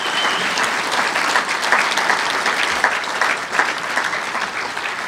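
A drag racing awards crowd gives steady, sustained applause for a shootout champion, a dense wash of many hands clapping at full volume throughout, with no voices standing out.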